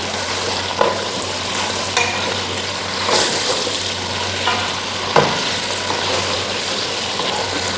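Washed chicken pieces fry in a pan while tomato rice is being made, a steady close sizzle with occasional clinks and scrapes from stirring, loud and continuous.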